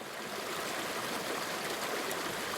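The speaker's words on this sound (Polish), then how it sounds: "woda obmywająca konary starego drzewa i płynąca sobie spokojnie do Wisły" Water flows and burbles steadily through a small stream around old tree branches near the Vistula River, a constant soft rush with gentle trickling, heard alone without voices.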